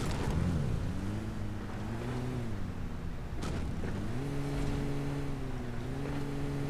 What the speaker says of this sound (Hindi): मैं गाड़ी उठा के आगे जा ही रहा था